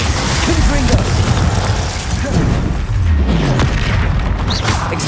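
Spells fire during a battle in the game Hogwarts Legacy, dense crackling blasts and booming impacts piling up over each other, loud and close, while a voice shouts incantations over them.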